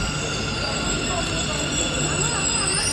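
Inside a moving Bengaluru metro train, a constant loud rolling rumble fills the carriage, with faint wheel squeal rising and falling along the track.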